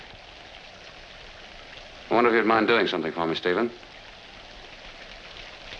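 Steady rain falls as a continuous hiss in the background of a 1940s drama scene, while someone speaks over it in the middle of the stretch.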